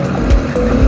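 A motorcycle engine runs at full throttle while climbing a steep hill on the Mount Coree route in the Brindabella ranges, a loud close roar with two brief surges, no talk.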